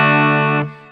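An electric guitar runs through a Quilter amp with its reverb switched back on, a sustained, effect-laden chord ringing loudly before cutting off and leaving a brief reverb tail.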